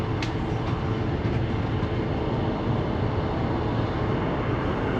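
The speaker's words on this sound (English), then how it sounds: "I think the trains are slowing down" A train rolls along with a dense, constant rumble and roar, loud and unbroken, with no voices.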